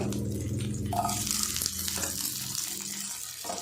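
Garlic cloves sautéing in a pan with lightly fried onion for a tomato chutney give off a steady, close sizzling hiss that runs unbroken throughout, with no voices.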